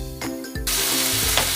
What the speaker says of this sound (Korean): 이 지글지글 소리 군침이 도네요.